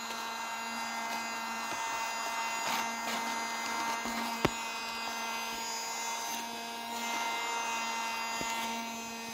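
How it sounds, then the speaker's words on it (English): A small handheld vacuum runs steadily, close by, sucking crumbs off a plate with a constant whirring drone and a few brief clicks and rattles as debris goes up the nozzle. "Here's my little vacuum."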